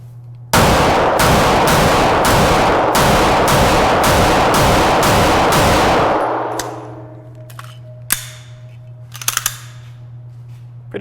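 A Smith & Wesson M&P 2.0 Metal pistol fires about eleven loud, sharp shots in a quick, even string, each with a ringing tail, followed by quiet handling clicks and small metallic clinks.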